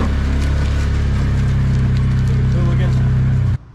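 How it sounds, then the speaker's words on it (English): A steady, loud mechanical rumble with rattling and grinding as feed pours out of a farm truck's rear hopper on a bison ranch, running continuously before stopping abruptly. "That sound is feed being dispensed out from the hopper in the back of the truck."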